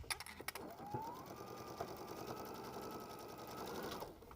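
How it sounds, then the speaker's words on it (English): A sewing machine whirs steadily for a few seconds as it stitches a quarter-inch seam around the edges of fabric backing for a bench pillow, then stops. The sound is faint and continuous. "let's go ahead and take this over to the machine and sew 1/4 inch"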